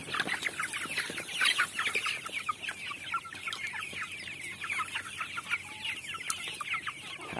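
Chickens fed on mixed bran at a Vietnamese poultry farm cluck steadily in a dense, overlapping flock chatter, nearby and moderately loud throughout with no talk.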